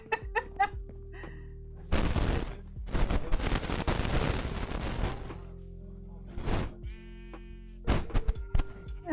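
Sheep on a sheep farm in Minecraft bleating in short, repeated blocky calls, several overlapping in quick bursts with gaps between, fairly close and clear with no talk.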